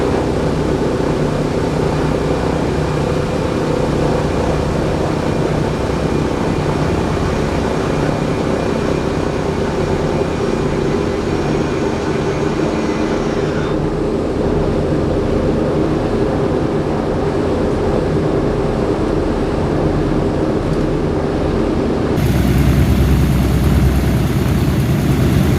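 Vintage B-17 Flying Fortress bomber in flight over the Great Smoky Mountains, its piston engines and propellers producing a loud, steady, droning roar heard from inside the cabin throughout, with a slight shift in tone partway through.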